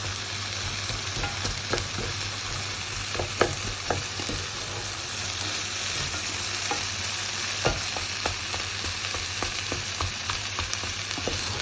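One-pot chilli being stirred and mixed in a hot pot, with a continuous sizzle under repeated scraping and knocking of a spoon against the pot at an irregular pace, no talking.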